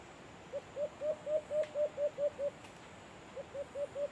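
A wild alimokon dove coos in leafy forest during a hunt, a steady series of about nine soft, evenly spaced notes, a short pause, then four more, faint and somewhat distant over quiet background hiss.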